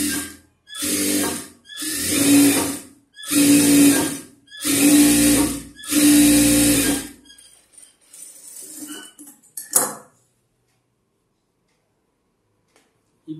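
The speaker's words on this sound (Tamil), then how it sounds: "தையல் போட்டுருங்க." A sewing machine stitching a folded half-inch blouse hem, running in five loud close bursts of rapid whirring separated by short pauses, followed by faint handling and a single knock before quiet.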